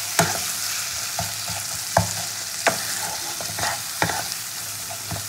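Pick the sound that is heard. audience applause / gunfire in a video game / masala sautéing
masala sautéing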